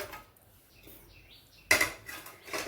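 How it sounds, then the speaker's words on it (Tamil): A metal lid clanks down onto a steaming pot of Kanchipuram idli, a single sharp clatter followed by a brief softer rattle, close and fairly loud in a quiet kitchen. "இந்த பாருங்க வச்சு மூடி போட்டு வச்சிட வேண்டியதான்"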